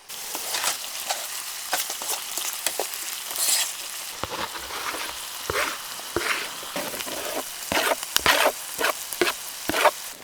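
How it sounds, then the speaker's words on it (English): Onion and garlic sizzling in a pan on a camp stove, a constant crackling fry broken by sharp bursts of stirring and spattering, close and alone without talk. "I'll fry up an onion and a ton of garlic."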